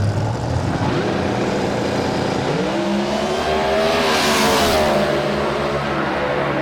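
A roots-blown small block double B altered and a dragster racing at a drag strip, a loud engine roar that climbs sharply in pitch as the cars accelerate away, steady and close.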